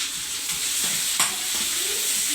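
Onions frying with dried red chillies in a pan while making buttermilk garelu, a steady close sizzle and hiss with a couple of brief stirring scrapes, no talking.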